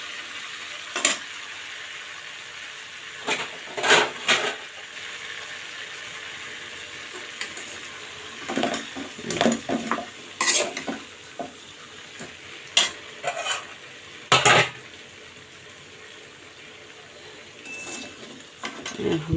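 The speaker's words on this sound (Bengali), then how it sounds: "এই তো আমার রোস্ট ভাজাটা হয়ে গিয়েছে," Chicken roast pieces frying in a pan with onion: a steady close sizzle broken by repeated sharp clatters of stirring throughout, with no talking.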